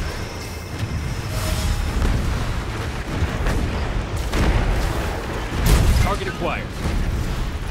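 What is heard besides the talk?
missile barrage explosions from video game Anno 2205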